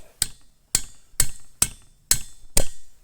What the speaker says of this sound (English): Just gonna hammer the razor blade around it.